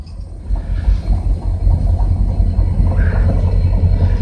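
A CN or VIA train passes at Kingston station, a loud close rumble with rhythmic low thumping wheel beats and rolling clatter continuing throughout, with no speech.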